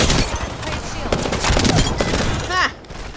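Rapid bursts of automatic gunfire in an Apex Legends match, loud and dense through most of the stretch, with a player's voice shouting briefly over the shooting before it drops off near the end.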